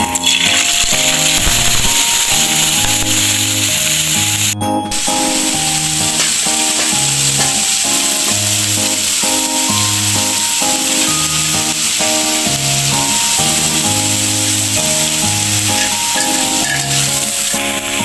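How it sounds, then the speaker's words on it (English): Steady, loud sizzling and crackling of stuffed bitter gourd frying in hot oil runs throughout, with music playing over it. "Fry it till golden brown."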